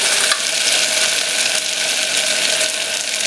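Potato kurma being stirred in hot oil with salt added, a steady loud sizzle with scraping and rattling of the spoon against the pan running throughout, no voices.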